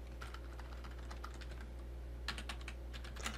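Rapid clicking of a computer keyboard as words are typed into a PowerPoint slide, a steady stream of close keystrokes with a denser burst near the end, over a constant low hum.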